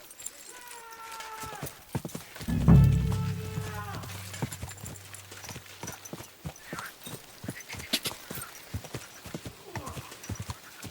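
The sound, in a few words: horse hooves clip-clopping and neighing in video game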